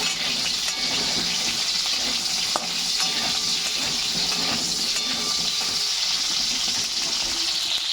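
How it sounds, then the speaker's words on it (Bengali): Pieces of potato and cauliflower fry in hot oil with a loud, dense, steady sizzle and hiss that fills the whole stretch, with occasional stirring scrapes. "এই তেলের মধ্যে এটা ভাজা করে নিই।"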